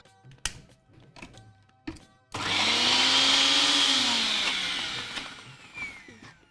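A mixer grinder crushes salt for chutney, starting abruptly after a few knocks and running as a loud, steady whirring roar for about four seconds before winding down.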